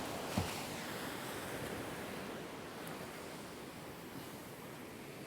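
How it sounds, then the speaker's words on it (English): Surf from 3–4 metre waves rolls in steadily over an Illawarra beach in winter, a continuous close-up wash of breaking water with a brief sharp thump near the start and no voices. "That surf, the waves now, the bigger waves that are coming over the beach"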